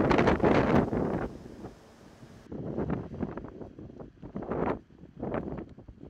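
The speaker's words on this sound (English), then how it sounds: "The windstorm and sandstorm raged over the top of Diablo Mountain." A windstorm and sandstorm over the top of Diablo Mountain, heavy gusts buffeting the microphone in loud roaring bursts that ease off briefly and then surge again.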